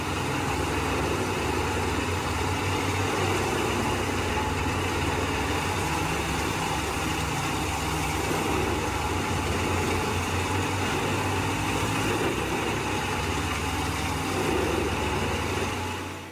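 A Hakatusta G11 wood chipper runs steadily at close range, with a dense, continuous machine roar and rumble that carries on without a break, though no distinct chipping bites stand out.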